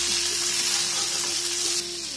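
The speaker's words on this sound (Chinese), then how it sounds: "再倒入丝瓜翻炒均匀" Sliced luffa gourd tossed into hot oil with scallion and ginger and stir-fried in a wok, giving a steady, loud, close sizzle throughout with no talk.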